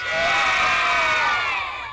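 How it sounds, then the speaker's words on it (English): An enthusiastic crowd of schoolchildren at Deidi Primary School cheers and shouts continuously, a loud, dense wall of high voices. "A quick visit and an enthusiastic crowd was there to greet the visitors"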